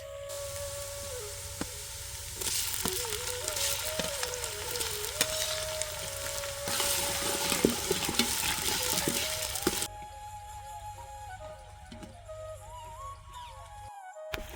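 Ginger, garlic and chili paste drops into hot oil for a green pigeon pea curry, a loud sizzling hiss that swells and then settles into quieter frying with light stirring scrapes.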